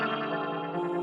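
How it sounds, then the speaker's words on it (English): A sustained, dense synth melody sample rings through Valhalla Vintage reverb in an Ableton Live session for a hard trap beat, sounding washed, shimmering and continuous, with no gaps across its short length. "let's also throw a reverb on here to help it blend in as well"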